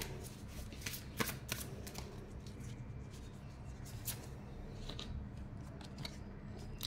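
Oracle cards are shuffled by hand for a tarot reading in soft, repeated riffling bursts with crisp papery flicks, close and fairly quiet.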